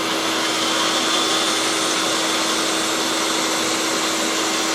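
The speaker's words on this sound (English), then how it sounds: "Now I actually sand these outside curves on the disc sander" Disc sander running steadily on the outside curves of a birdseye wood dovetail saw handle made from torrified wood, a loud continuous broadband whir with a faint steady hum, no pauses and no talk.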